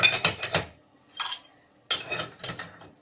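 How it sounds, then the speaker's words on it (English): A workpiece is set into a lathe chuck with a few sharp metallic clinks and knocks in short clusters, separated by brief silences. "So we take the next workpiece and insert in the chuck."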